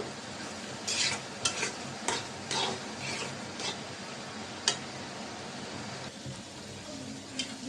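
Beef tripe sizzles as it is stir-fried until dry, with a spatula scraping and tapping against the pan in a loose rhythm over a steady frying hiss.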